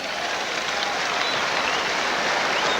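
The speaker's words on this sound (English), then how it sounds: "a very generous round of applause from the Western Province crowd for the Northern Transvaaler" A Western Province crowd at a 1984 rugby union test in South Africa gives a player a steady, loud round of applause, a dense wash of clapping that holds throughout.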